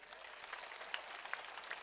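Audience clapping at a large village mahapanchayat gathering in Jamwa Ramgarh, welcoming a local official; steady, moderately distant applause from many hands running throughout with a few sharper individual claps.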